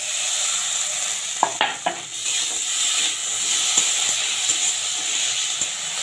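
Chopped tomatoes hit a pan of fried onions and green chillies, giving a steady sizzling hiss broken by a few sharp clatters and stirring knocks early on.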